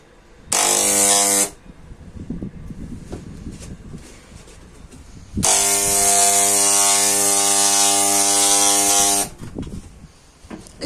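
An electric paint sprayer used to coat a bus runs in two loud bursts, first a short one and then a longer one of several seconds, giving a harsh, buzzing vibration with low handling noise and no talk in between.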